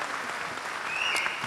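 Audience applauding an Indonesian rock band at Jakarta Marketing Week 2013, a steady, fairly faint wash of clapping with no voices over it.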